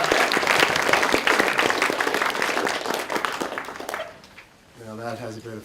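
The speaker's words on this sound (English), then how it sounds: "Ladies and gentlemen, Kirby, if you do feel like applauding at any stage during the service" Audience applauding at a memorial service, dense sustained clapping for about four seconds that fades out, followed by a voice speaking.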